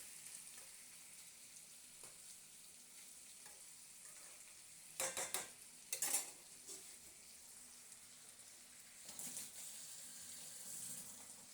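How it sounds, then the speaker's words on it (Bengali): Fish and vegetables frying lightly in a pan for a spicy tengra fish dish, with a quiet sizzle and a few brief bursts of stirring and clatter, faint and close. "এইবারে মাছটা আর সবজিটা ভালো করে নাড়িয়ে চাড়িয়ে একটু হালকা ফ্রাই করে নেবো"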